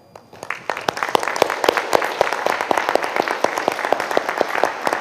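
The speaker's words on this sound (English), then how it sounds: "please just wave your hand so we can give you a big round of applause as well." Audience at a public forum for Saint Paul police chief finalists applauds police officers and staff, steady dense clapping from a roomful of people that swells quickly and holds loud throughout.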